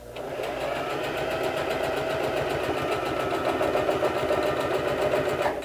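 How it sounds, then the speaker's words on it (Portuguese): A sewing machine stitches the shoulder seam of a jacket with a detachable zipper, running close to the edge. The needle chatters in a steady, rapid rhythm, near and continuous for over five seconds with no talking. "vou fazer uma costura rente à borda de montagem primeiro"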